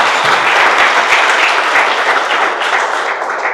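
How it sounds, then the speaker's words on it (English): Loud, dense round of applause from a breakfast event audience for a credit union sponsor: a continuous wash of many hands clapping close by that eases off slightly near the end, with no speech. "Please give them a round of applause."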